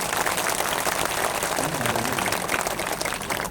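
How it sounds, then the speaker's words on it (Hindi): Crowd at an outdoor political gathering in Bihar clapping together, a dense, fairly loud burst of many hands that holds steady for a few seconds. "जोर से ताली एक बार बजा दी"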